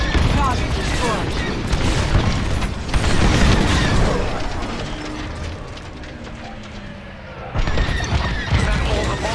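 A tower target being destroyed in the Star Wars Squadrons space-combat game, a loud rolling series of explosive bursts and mechanical clatter under game dialogue, easing off briefly before another heavy surge.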